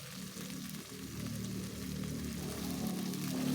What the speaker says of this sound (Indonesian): Tumis lagi sampai tomatnya layu.